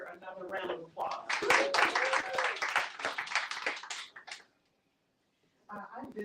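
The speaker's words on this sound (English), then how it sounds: "Let's give Victor another round of applause." An audience at a book reading applauds an author with a few seconds of clapping and some cheering over a voice, which then stops abruptly into near silence before talking resumes.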